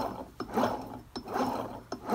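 An Eaton M90 supercharger with freshly replaced needle bearings spins with a steady mechanical whir, broken by three sharp rattling clicks spaced under a second apart, close and moderately loud with no talk.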